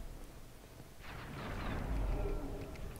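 Giants hurl exploding boulders in the video game Dark Souls at Sen's Fortress, giving a rumbling blast that swells after a moment and lingers as a deep, fairly loud roar.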